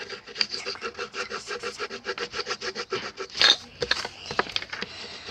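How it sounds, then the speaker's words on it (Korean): Rapid rhythmic scratching of colored pencil strokes on paper, soft and close, steady back-and-forth scraping with no talking. "색연필의 쓱싹쓱싹 소리가 너무 좋네요"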